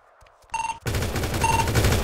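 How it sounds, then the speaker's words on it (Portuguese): Gunfire in a video game: a loud burst of shots begins partway in and keeps rattling steadily to the end, with brief electronic tones over it and no talk. "Estranho, eu que atirei, eu que atirei."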